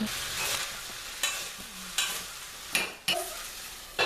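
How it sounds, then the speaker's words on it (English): Rice turned and stirred in a covered pot makes soft sizzling broken by several sharp scrapes and knocks of a spoon at irregular intervals, fairly quiet, with no talking. "And once in a while, you could just turn the rice."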